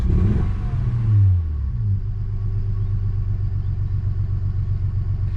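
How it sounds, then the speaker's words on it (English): A Honda engine idles steadily after a brief rev at the start, settling into a low, even rumble that carries on alone, close and fairly loud, with an idle that is still slightly off. "That's a far more acceptable idle, which is still not right."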